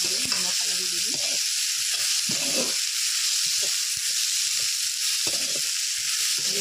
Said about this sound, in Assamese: মাংসখিনি দি নিমখ হালধি দি দিম।